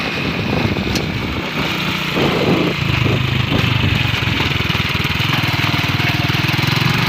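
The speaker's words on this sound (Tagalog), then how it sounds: "Yung aming Euro motor 4-wheel drive." A Euro Motor four-wheel-drive vehicle's engine runs loudly and steadily with a rough, chugging mechanical clatter, close by, as it climbs toward a hillside farm.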